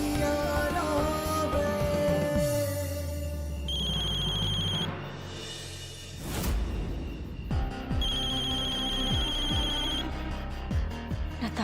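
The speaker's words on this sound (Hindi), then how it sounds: "नताशा का फोन इस वक्त?" A telephone rings insistently indoors in a Hindi TV serial scene, repeated electronic bell trills in bursts with a short gap in between, loud and alone with a music sting underneath.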